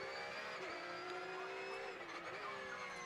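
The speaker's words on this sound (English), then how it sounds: "First one, 992 GT3 Cup car." A Porsche 992 GT3 Cup race car, the brand-new 510-horsepower model driven flat out, screams past with a steady high-pitched engine whine that shifts pitch slightly, loud and continuous throughout.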